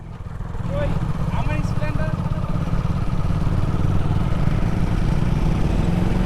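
A motorcycle engine runs steadily on the road, a close, continuous low drone that holds loud from start to finish, with brief voices rising over it early on.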